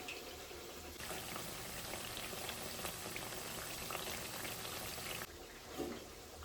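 Vadas sizzling in oil in a pan, a steady close hiss and bubbling that runs unbroken and quietly, with no voices over it.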